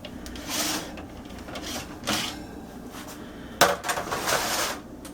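A metal sheet pan loaded with smoked sausage and vegetables comes out of the oven with a few clanks and a scraping rattle against the rack, amid low kitchen background noise and no talking.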